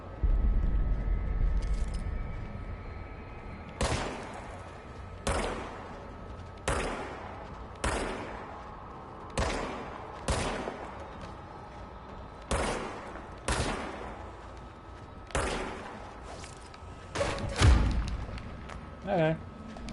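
Gunshots in the game Control, a series of about a dozen sharp, evenly spaced single cracks with short decays over a quiet background hum, with a player talking intermittently.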